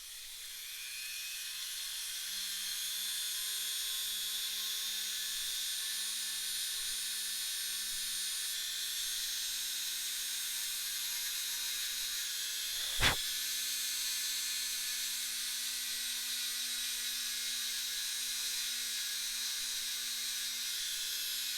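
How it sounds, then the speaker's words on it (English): A power drill bores a hole into a plastic leg piece for an O-ring action figure, running as one continuous high-pitched whine with a steady motor hum beneath and a single sharp click partway through. "I'm going to drill that hole out, and hopefully I can get that hole drilled out in the right spot"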